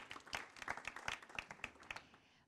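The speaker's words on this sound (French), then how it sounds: "Merci de l'applaudir." Applause from a conference audience at an innovation plenary, a short burst of scattered claps that thins out and fades by the end, faint and without voices.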